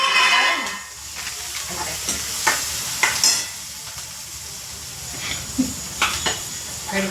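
Peanuts frying in groundnut oil produce a continuous close sizzle, with scattered scraping and clicking of a stirring spoon in the pan.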